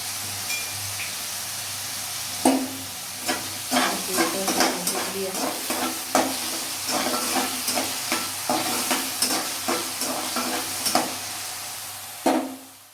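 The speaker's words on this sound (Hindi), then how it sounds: "सब्जी को हमने हल्का ब्राउन भून लिया है" Chaulai (amaranth) stalk vegetable with pumpkin, lightly salted, frying in a pan until lightly browned: a steady close sizzle with repeated scraping, clattering stirs through the middle.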